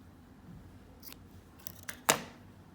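Scissors snip crochet thread in a quiet room, two or three short, crisp clicks close by near the end.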